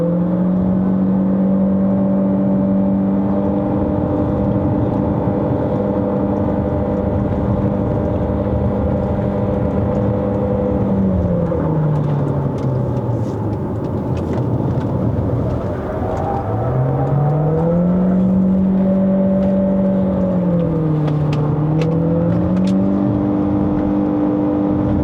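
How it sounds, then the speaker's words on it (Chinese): A Chery Tiggo Cross 1.5 HEV climbs a steep mountain road in Malaysia with its engine droning loud and close. The pitch holds steady, then dips and swells as the throttle changes. "现在还需要爬山，所以我们来看一下它的引擎动力给到是怎么样啊"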